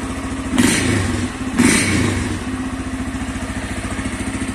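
A Honda Fan 160 motorcycle fitted with a modified Polimet exhaust revs twice in quick bursts, the engine note jumping up loud and close before settling back to a steady, throbbing idle.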